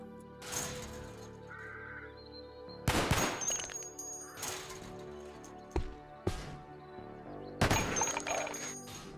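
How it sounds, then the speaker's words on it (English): Rifle shots fired at a Kevlar zombie in the video game Cataclysm DDA: several sharp, loud gunshot bursts spaced irregularly, with a few smaller cracks between, no talking. "Then we'll wield our rifle to take him out."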